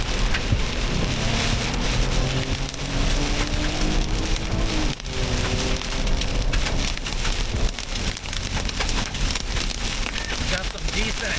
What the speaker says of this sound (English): Got some decent hail coming down in here.